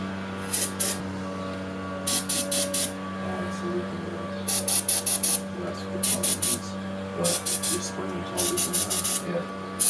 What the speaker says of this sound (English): I'm gonna spray a little bit of fuel